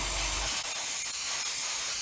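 Aerosol paint sprayed onto the doors of a Roden 1/144 scale C-141B Starlifter model aircraft, a steady close hiss that runs without a break.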